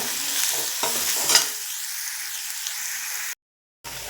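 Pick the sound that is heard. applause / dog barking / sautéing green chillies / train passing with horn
sautéing green chillies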